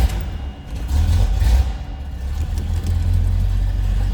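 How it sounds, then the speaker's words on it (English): A 1973 Chevrolet Corvette coupe's engine runs close by with a deep, loud low rumble that swells in two throttle blips before settling back to a steady idle, with no talking. "Let's go ahead and start this up so you can hear it run"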